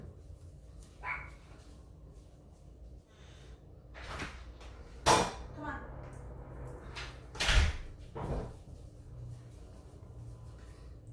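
A door slides or swings open with a couple of clunks and thuds to let a barking dog in, followed by a short spoken call amid low room noise.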